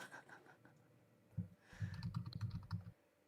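A quiet, brief burst of typing on a computer keyboard: a quick run of soft clicks lasting about a second and a half, heard alone after a near-silent pause.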